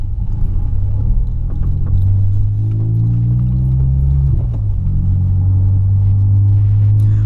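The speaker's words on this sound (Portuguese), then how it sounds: "você tá escutando mais o barulho porque eu coloquei o escape esportivo também" Steady low rumble inside a moving 2022 Volkswagen Polo fitted with a sport exhaust, a continuous droning engine note that rises and dips slightly as the car drives, with no talking.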